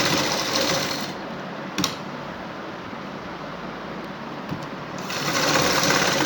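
A sewing machine stitches a decorative dress neckline in a steady, fast mechanical whir that runs close and continuous, dipping slightly in the middle, with a couple of brief clicks and no talk.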